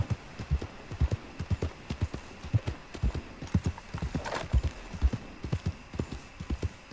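Horse hooves clip-clopping at a steady trot while riding in Red Dead Redemption II, a regular rhythmic patter of close, moderately loud hoofbeats with a brief whinny partway through.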